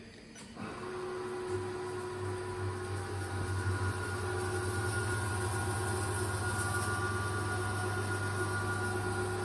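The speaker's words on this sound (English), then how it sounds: "That sounds really nice. and you can hear the fans cutting at the top." A 1997 Haas VF3 CNC mill's spindle turns at 500 RPM, a steady low hum holding with fan whir above it, continuous and close with no talk.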